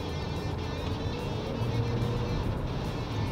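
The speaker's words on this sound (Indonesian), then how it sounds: "Oh, mesinnya langsung lebih kedengeran, RPM-nya naik, lebih responsif juga ke pedal gas." A BAIC X55 II engine revs in sport mode, a steady, continuous drone heard from inside the cabin with low rumble and road noise throughout.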